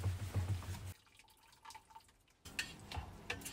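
Boiling water is poured from a camping pot through the gap under its lid, outdoors on a road trip in remote Alaska. Close splashing and trickling come in two bursts with a quieter pause between them.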